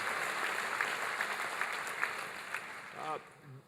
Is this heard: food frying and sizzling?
no